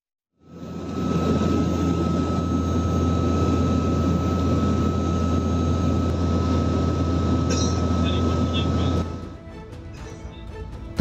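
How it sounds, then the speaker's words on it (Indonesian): A CN-235 patrol aircraft flies overhead during a search over the Bali Strait, its steady loud engine drone holding for about nine seconds before dropping away. "Pesawat udara CN-235 dikerahkan guna memantau dan mencari korban dari udara"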